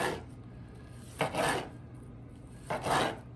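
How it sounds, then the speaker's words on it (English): Knife slicing through smoked brisket burnt ends: two distinct rasping cuts about a second and a half apart, close and fairly loud, each a short grainy stroke of the blade over a quiet background. "we're gonna slice some burnt ends"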